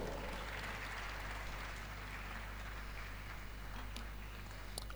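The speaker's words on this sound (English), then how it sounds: "Please a round of applause for Frank Edoho." A panel-session audience offers faint, distant applause for a moderator, a soft, even, rain-like patter over a low steady hum.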